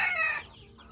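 A chicken of a foreign fancy breed gives a single short, high cluck up close, then the sound drops to quiet background.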